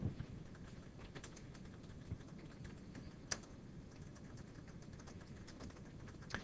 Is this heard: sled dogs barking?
no